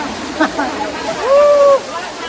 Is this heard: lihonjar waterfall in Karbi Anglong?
yes